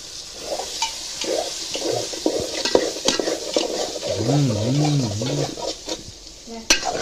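A spoon stirs soybean biryani with spices in a cooking pot at a farm. It makes close, repeated scraping and sloshing strokes over a soft simmering hiss, with a brief warbling tone partway through.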